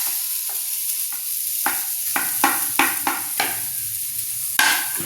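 Curry leaves crackle and sizzle in hot oil, several sharp bursts and spits popping in quick succession over a low frying hiss, close and fairly loud, with no talking.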